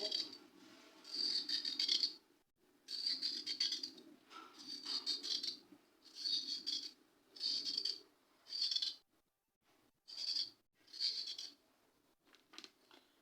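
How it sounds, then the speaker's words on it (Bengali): Carrot skins scraped off with rhythmic rasping strokes, about ten short bursts separated by brief pauses, close and fairly quiet with no talk. "এবারে উপরের যে খোসাটা রয়েছে সেটাকে আমি তুলে নেব এরমভাবে সুন্দরভাবে তুলে নেব"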